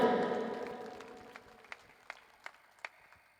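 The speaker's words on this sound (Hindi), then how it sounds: "जोरदार तालियों के साथ हनुमान जी का स्वागत करें।" Applause for Hanuman Beniwal at a large political rally in Shrimadhopur starts as a fading crowd wash, then thins into a few scattered, isolated claps.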